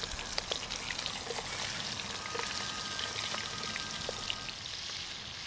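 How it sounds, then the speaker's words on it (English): Sausage browns in a hot pan, giving a continuous close crackling sizzle with scattered pops, steady and fairly loud throughout with no talking. "So while we're browning up this sausage"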